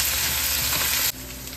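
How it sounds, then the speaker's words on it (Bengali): Chopped red onions fry in a hot pan with a steady, close, dense sizzle that drops abruptly to a quieter crackle near the end. "এবার এই পেঁয়াজগুলো আমি লাল লাল করে ভেজে নেব।"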